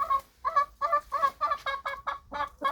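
Chickens clucking at close range on a small farm, a string of about nine evenly spaced, fairly loud clucks with no talking over them.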